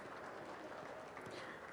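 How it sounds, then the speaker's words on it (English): An audience at an outdoor groundbreaking ceremony for mini LNG plants in Kogi applauds in a steady, even wash of clapping, heard faintly and at a distance. "Another round of applause for her, please."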